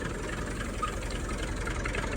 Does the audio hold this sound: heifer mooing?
no